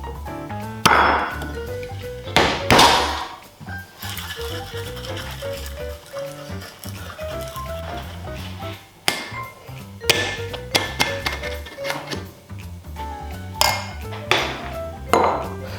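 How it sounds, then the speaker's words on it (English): An amaretto sour being dry shaken without ice in a cocktail shaker, giving irregular rattling knocks and clinks of the shaker, loud near the start and then as lighter taps spread out over a musical background. "Dumping our ice, now dry shaking."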